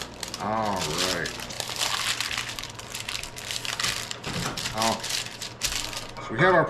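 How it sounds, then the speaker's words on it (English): Parchment paper crinkles and rustles in uneven bursts while being pressed into a cake pan for brownies in a home kitchen, with people speaking at intervals between the crackling. "we're going to line that with some parchment paper"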